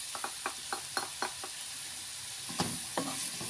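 Black pepper, salt and chili flakes are stirred in a pan with quiet, rhythmic scraping taps over a faint, steady sizzle. The strokes come in quick clusters and then pause.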